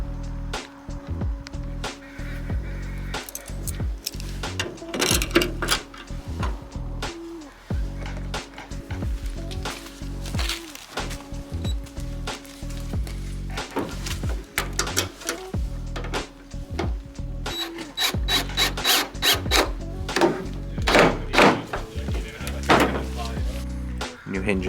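Work on new tailgate hinges for a Toyota T100 truck restoration brings a series of irregular metallic clicks, ratchet taps and clunks of screws being driven into the tailgate, close by with steady low hum beneath.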